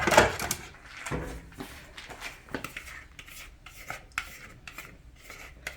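Metal spatula scraping and rubbing across a baking dish while serving tamale pie, a series of short close rasps with one louder stroke at the start, then softer intermittent scrapes.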